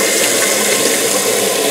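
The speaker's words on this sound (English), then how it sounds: "we're just going to put some hot water in here" Hot water pouring into a kettle before descaling with vinegar, a loud, steady, close splashing rush that stays constant for the whole short stretch.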